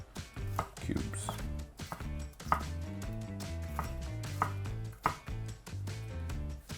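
A knife chops bell peppers into small cubes on a cutting board, a series of crisp, close knocks spaced irregularly over background music, with no talking.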